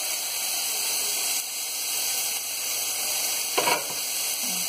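Liver fillet frying in a pan gives a steady, close sizzle with a constant hiss, broken by a brief louder crackle near the end as the meat shifts.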